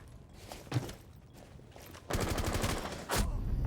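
Shotgun blasts and other gunfire in a Rainbow Six Siege esports match sound as rapid, loud volleys, with a dense burst in the latter half and no voice over them.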